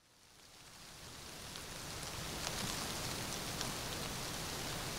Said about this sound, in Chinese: 看着窗外黑麻麻的乌云，以及不断打在窗子上的雨水